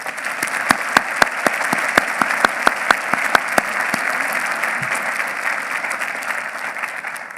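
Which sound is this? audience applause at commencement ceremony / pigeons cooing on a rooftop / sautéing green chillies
audience applause at commencement ceremony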